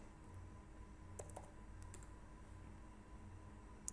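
Typing on a computer keyboard while entering data into an Excel spreadsheet, a few faint, close key clicks in small clusters over a quiet background hum.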